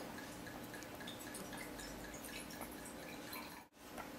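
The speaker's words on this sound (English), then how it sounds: "So first we have to decant it, and I'm going to cheat a little bit with a German funnel." Petrus 1997 red wine poured through a German decanting funnel into a decanter, a steady close liquid trickle with faint dripping that breaks off briefly near the end.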